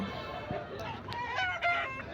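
A year-old Kakitega gamecock crows nearby with a strained, rising call, over a low background murmur and faint voices at a weekly livestock market in Rayachoti, Kadapa district.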